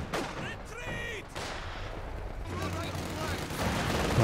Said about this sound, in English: What is this one machine gun?